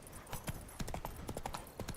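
Roach the horse trots in The Witcher 3, giving quick, rhythmic clip-clop hoofbeats close by and fairly quiet, with no talk over them.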